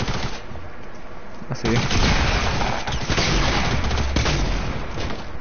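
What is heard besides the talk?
gunshots in Fortnite video game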